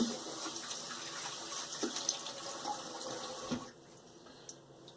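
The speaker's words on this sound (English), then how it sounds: "Let's go ahead and rinse some of this soap off." Tap water running steadily into a sink while shaving soap is rinsed off, a faint continuous hiss with small splashes and clinks, easing off near the end.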